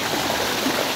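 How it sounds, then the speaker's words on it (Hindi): Irrigation water flows steadily and continuously to trees in a date palm orchard, a close, fairly loud rushing and gurgling stream. "ये दरख्तों को पानी दे रहे हैं"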